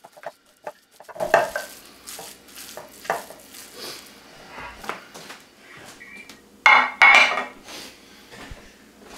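Ground beef being worked together with about 8 ounces of tomato sauce for stuffed cabbage, giving repeated wet squelching and clacking strokes against a bowl, with a couple of louder knocks near the end.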